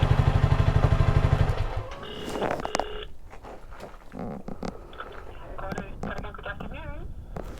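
Honda CRF300 dual-sport motorcycle engine idling at close range with a steady low, pulsing throb that cuts out after about two seconds, leaving clattering and faint movement.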